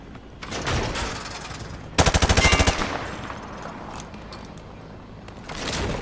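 Call of Duty gunfire penetrating light cover: a rapid automatic burst of about ten sharp shots rings out, framed by quieter in-game ambience and rustling movement.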